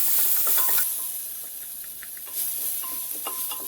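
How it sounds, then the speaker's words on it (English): Chili powder, garam masala, coriander and turmeric toast in a hot pan with a steady soft hiss and light sizzle, with faint stirring scrapes throughout. "Toast the masala very nicely until it goes the raw smell."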